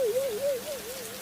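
Rain falls in an animated cartoon scene as a steady soft hiss, with a wavering tone gliding above it throughout.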